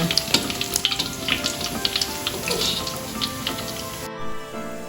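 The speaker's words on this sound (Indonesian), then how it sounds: "Nah, selanjutnya kita goreng yang lainnya." Fish pieces frying in hot oil for Padang-style balado, a steady dense sizzle with crackling pops, close and fairly loud throughout, briefly dipping near the end.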